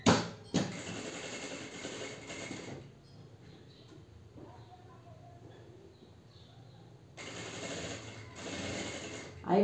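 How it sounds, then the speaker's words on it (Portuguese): A sewing machine stitches a dress hem in slow, steady bursts, its mechanical whir and clatter loud at the start and end with a quieter pause between. "E aí, eu vou costurando. Eu vou devagar, sem pressa."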